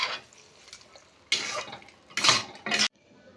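A spoon scrapes and stirs ghee-fried cashews, pistachios and other dry fruits into carrot halwa in a pan. Three short, close scraping bursts are separated by quiet pauses.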